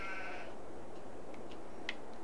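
A sheep in a Farming Simulator pasture gives one short bleat at the start, followed by faint scattered clicks over a soft, steady background hum.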